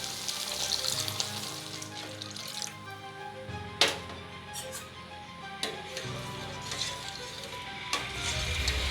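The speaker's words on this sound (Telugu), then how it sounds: "ఇప్పుడు దీనిలో ఒక గ్లాస్ వాటర్ యాడ్ చేస్తున్నానండి." Water poured from a glass into a hot pan of veg Manchurian sauce with green chilli and vinegar, a steady close-up sizzle and bubbling hiss with a few sharp clinks and splashes, no talking.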